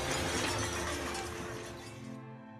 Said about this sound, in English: the sounds of buildings colliding and glass breaking